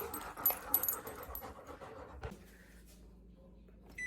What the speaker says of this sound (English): This is my pet dog, Rocky